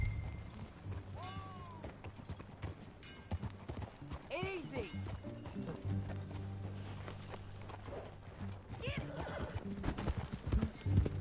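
Video game horse hooves clip-clop at a steady walk alongside a whinny, with people talking and music playing underneath.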